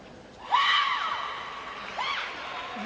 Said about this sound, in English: It's a loud screech, considering it was just a short push to the forehand.